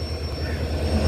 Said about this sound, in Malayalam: അപ്പുറത്തെ ഒരു EMD ഒച്ചപ്പാടും വേളാക്കിയിരിക്കുന്നു.